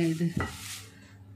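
Drumstick (moringa) leaves dry-roasting in a pan give a quick stirring scrape followed by a faint, soft crackle and sizzle, with a single brief spoken word near the start.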